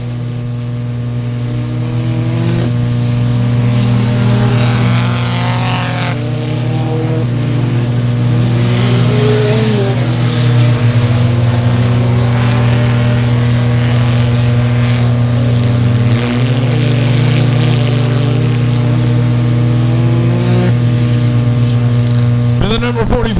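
Race cars at Buffalo Creek Speedway, an engine roar that holds steady and loud throughout while the track announcer talks over it.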